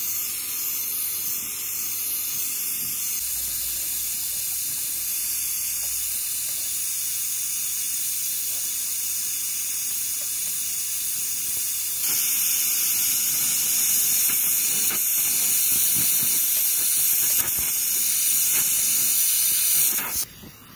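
Water and steam hissing out of the condenser of an Icematic ice machine under repair, a constant loud broadband hiss that carries on for about twenty seconds, grows slightly stronger partway through, then cuts off abruptly at the end.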